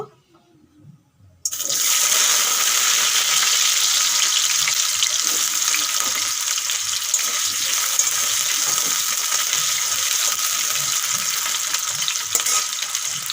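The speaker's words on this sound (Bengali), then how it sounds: "গরম হয়ে গেছে আলুগুলো এখন দিয়ে দেব" Cut potatoes dropped into hot oil, after a brief quiet moment, a sudden loud burst of bubbling sizzle that settles into a steady, close frying hiss.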